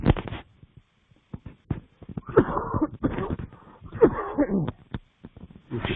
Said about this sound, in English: This little cough's getting advantage of me.